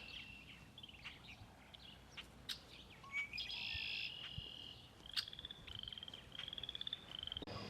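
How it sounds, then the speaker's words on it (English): Red-winged blackbird calling near a nesting area in a spring garden, sharp chirps and trilled calls repeating through, mixed with other birdsong and frog or insect chatter in the background. "So there's a red-winged blackbird here."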